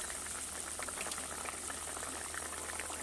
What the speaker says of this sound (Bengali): আলুটা সিদ্ধ হতে দিতে হবে